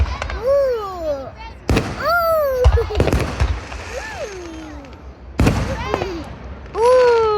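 Fireworks at a town display, with sharp, loud bangs and crackling bursts arriving in irregular clusters. Children's voices squeal and exclaim between and over the blasts.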